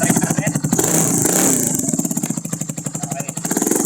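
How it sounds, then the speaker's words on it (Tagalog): The 200cc engine of a 4x2 farm UTV idles and revs in neutral through its exhaust, giving a loud, close, rapid pulsing note that swells for a moment and then settles back to a steady chug. "Papasilinyador ko lang sa kanya kung paano yung tunog ng ating tambucho."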